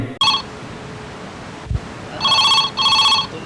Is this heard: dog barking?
no